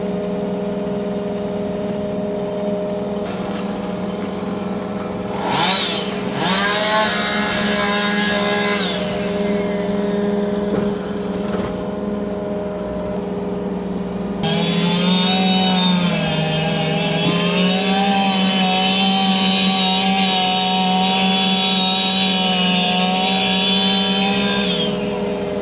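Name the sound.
worker sawing with a chainsaw near an excavator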